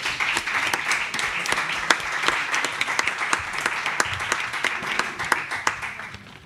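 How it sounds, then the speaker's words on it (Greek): A book-presentation audience at the Thessaloniki literary club claps together in a steady, dense patter that lasts several seconds at moderate loudness before tapering off. "Εγώ θα ήθελα ένα χειροκρότημα για τα μέλη μα για το βιβλίο."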